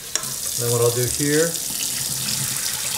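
Excess rinse water poured off rice in a pot in a hotel room, a steady splashing pour running throughout at close range while someone talks over it.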